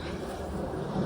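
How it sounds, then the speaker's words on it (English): A low, steady engine rumble from an aircraft drones at moderate level throughout, with a constant broad hum filling the background. "Sorry about the plane."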